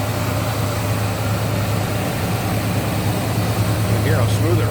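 A 1972 Chevrolet C10 Cheyenne regular-cab long-box pickup idles steadily with a smooth, low, even engine hum that holds constant throughout, close up with no talk over it.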